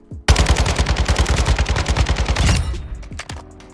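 A long automatic burst fires from a gun in a shooter video game, with rapid evenly spaced shots in a steady spray for more than two seconds. It cuts off abruptly, leaving a few faint clicks and thuds.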